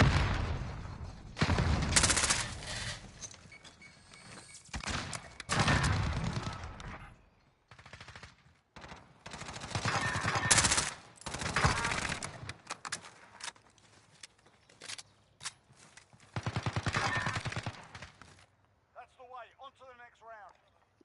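Rapid automatic gunfire bursts in Modern Warfare 2019 on PS5, several loud clusters of shots separated by brief pauses, with a player's voice talking near the end.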